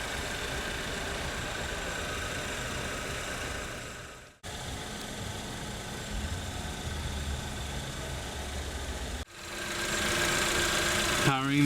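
A 2017 GMC Terrain 2.4-liter four-cylinder engine idles with a steady, even hum, cut by two brief gaps, and a voice briefly heard at the end.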